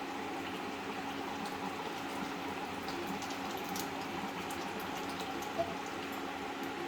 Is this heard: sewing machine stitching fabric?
no